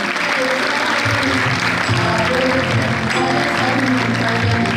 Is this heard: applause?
yes